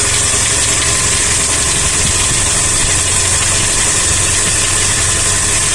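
Toyota Kijang Kapsul engine idling up close with a steady, dense rattling and ticking clatter, loud and continuous throughout with no pauses.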